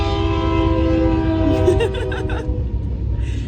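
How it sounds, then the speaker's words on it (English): A train horn sounds in long sustained blasts over a deep rumbling rail noise, fairly loud and steady throughout. "You can hear the train in the background."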